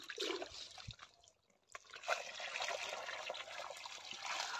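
Original stone quicklime fizzes and bubbles as it slakes in fish-pond water, a faint, continuous hissing and trickling that briefly drops away before resuming.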